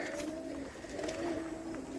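Pigeons coo steadily in an outdoor show pen, a low, continuous murmuring of overlapping calls close by, with no talking.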